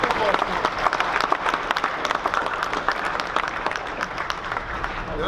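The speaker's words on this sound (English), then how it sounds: "let's give one more round of applause to our kids, our parents, and our coaches" Sustained applause from a crowd at a high school fall sports awards event, dense steady clapping filling the whole stretch at a fairly loud level, with some voices mixed in.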